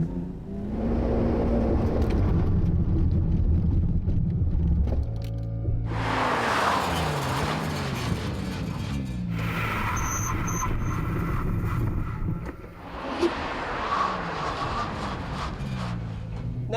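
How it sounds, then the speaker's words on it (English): A Nissan R32 GT-R fitted with a budget brake kit accelerates hard to 100 on a road, then brakes hard; engine roar rises through gear changes in loud bursts, with tire and brake noise between runs. "Accelerate to 100, slam on the brakes, check out the distance."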